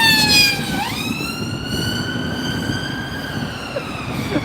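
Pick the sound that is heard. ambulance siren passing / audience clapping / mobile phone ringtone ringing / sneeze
ambulance siren passing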